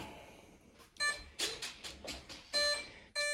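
A series of short electronic beeps and chirps at varied pitches from the electronics of an E-Flite Cirrus SR22T RC plane, some sustained tones and quick warbles, close by with quiet gaps between.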